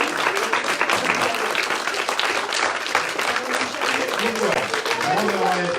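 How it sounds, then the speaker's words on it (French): An audience applauding at a French quiz final, steady sustained clapping from a crowd throughout, with voices and cheers mixed in. "On peut applaudir quand même"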